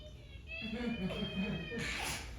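A voice mimics the high, wavering shriek of eels, rising and sustained for a couple of seconds over a faint hiss, during a read-aloud of The Princess Bride.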